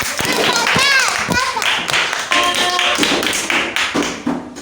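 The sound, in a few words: classroom clapping for a pupil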